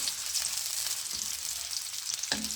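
Onions sizzling steadily in hot oil in a pan as tinda is being cooked, a continuous loud crackle with a brief stir or clink near the end.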